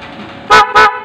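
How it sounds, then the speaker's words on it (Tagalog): Two loud blasts from an aftermarket loud car horn in quick succession, each about a quarter second long, with a steady engine-like hum underneath. "pumindot tayo ng busina"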